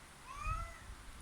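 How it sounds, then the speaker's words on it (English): A house cat meows once in a rising-then-falling call, close and fairly clear over a low background rumble, with no talking. "my cat is meowing at me"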